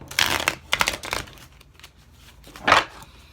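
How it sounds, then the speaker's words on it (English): A deck of tarot cards is shuffled by hand, with two quick bursts of riffling and crisp flicking near the start and another short shuffle near the end, close and fairly soft, with no talking. "Shuffle the cards up."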